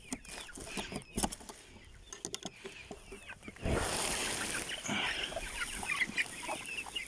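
Backyard hens and young chicks cluck and peep around freshly delivered rice, with soft scattered calls that turn into a busier, louder flurry of clucking and rustling partway through.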